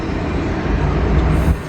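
A freight train heading eastbound toward Norfolk International Terminals rumbles past at steady loudness, with a dense low roar and no voices over it.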